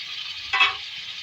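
Chopped green chillies and tomatoes stirred into hot oil in a karahi, a steady soft sizzle with a brief louder scraping swirl at mid-point, close and alone.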